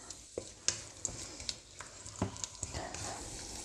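Beef frying with ginger in a pan, a faint sizzle with scattered light clicks and scrapes of a utensil moving the meat, heard quietly with no voices.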